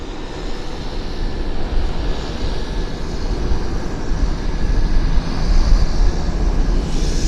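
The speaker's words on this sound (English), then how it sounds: "Okay, we've got an aircraft departing." Air Canada Boeing 737 MAX departing Vancouver airport, a steady broadband jet roar that holds loud and even throughout, swelling slightly toward the end.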